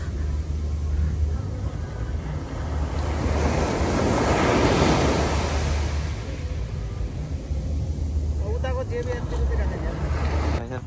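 Sea waves wash up a sandy beach at night near JBR Marina in Dubai, a steady roar of surf that swells in the middle, with wind buffeting the microphone throughout.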